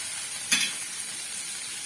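Paneer fries in hot oil in a kadhai, giving a steady, close sizzle with a brief sharper hiss and a few light clinks of a utensil stirring.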